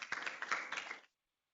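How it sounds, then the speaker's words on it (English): An audience at a LinkedIn talent-solutions presentation claps briefly, a short burst of close hand claps that stops abruptly after about a second. "Give them a round of applause."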